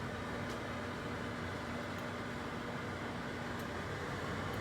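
A microwave oven hums steadily while melting chocolate at 50% power, giving a constant, close drone with a faint tonal whine and no speech.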